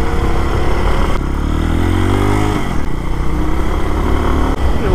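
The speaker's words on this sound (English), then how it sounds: "Little KPX, it's a good bike." A KPX motorcycle engine runs steadily while riding on back roads under cloudy skies, a loud continuous drone with a rising pitch sweep mid-clip as the rider accelerates, then settling, with wind noise throughout.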